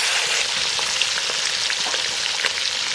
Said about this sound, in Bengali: এখন ভাজবো মাগুর মাছ।